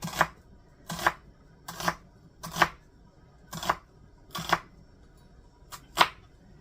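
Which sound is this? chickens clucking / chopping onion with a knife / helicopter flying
chopping onion with a knife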